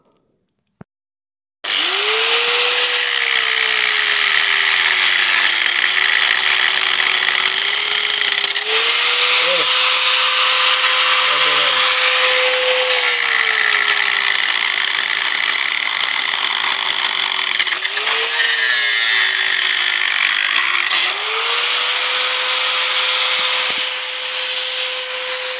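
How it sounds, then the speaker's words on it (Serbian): A power tool cuts through iron hinges with a loud, continuous high-pitched whine and grinding roar that starts after a brief quiet, shifting pitch slightly as the cut progresses, with a short pause near the end. "Sad ću ove šarke da isečem"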